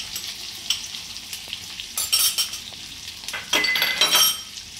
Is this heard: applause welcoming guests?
no